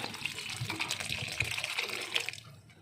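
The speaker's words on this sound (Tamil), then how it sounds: "இந்த காய்க்கு மேலே நம்ம தண்ணி ஊற்றணும்." Water is poured from above onto chopped bottle gourd pieces and curry leaves in a pot for soup, a steady splashing stream for about two and a half seconds that then stops, quiet and close.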